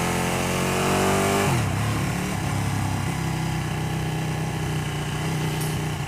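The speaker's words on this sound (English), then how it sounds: "2015 Ducati Panigale 1299S, and I am so scared." A 2015 Ducati 1299 Panigale S revs high at close range, then its pitch drops sharply back to a steady, throbbing idle. The idle continues loud and even for the rest of the clip.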